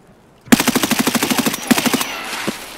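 Full-auto gunfire in Escape From Tarkov, one loud rapid burst of about fifteen evenly spaced shots, a short pause, then a second quicker burst that trails off, heard close and without talk.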